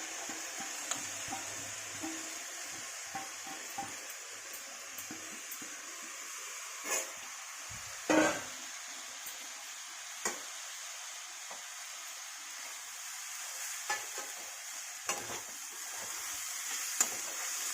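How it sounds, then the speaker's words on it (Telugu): Rice and grated carrot fry in a hot pan with a steady sizzle, and a spoon scrapes and stirs through them now and then with a few louder clatters. "దీంట్లో వేసి 2 నిమిషాలు ఈ రెండింటిని బాగా వేయించాలి"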